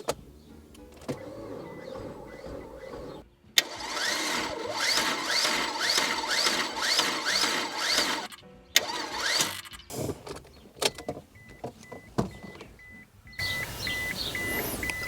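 A Subaru Justy G3X engine being cranked over and over without catching, bursts of whirring starter-motor churn separated by short pauses, close and fairly loud, ending in a few clicks and a faint beeping tone.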